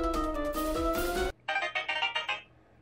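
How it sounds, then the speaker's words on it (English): A phone alert plays near and clear, with a bright melodic tone followed by a quick series of rhythmic chirping beeps. No voices are heard. "I'm getting a text message."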